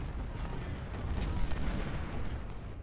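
Artillery fire in the UGCW Civil War strategy game at Hardin Pike: a dense, continuous rumble of cannon booms rolling together, loud and steady for a few seconds with no voices.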